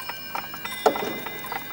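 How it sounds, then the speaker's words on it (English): Mechanical clocks in a room, a quiet ticking that mixes several overlapping rhythms, with one brighter metallic chime-like strike near the middle and thin ringing tones held underneath. "I love all things mechanical, especially clocks."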